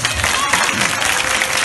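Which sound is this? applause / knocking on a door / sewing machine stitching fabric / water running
applause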